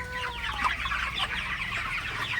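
Broiler chickens on a poultry farm cluck and chatter continuously as a dense flock, many overlapping calls at steady moderate loudness with no talking.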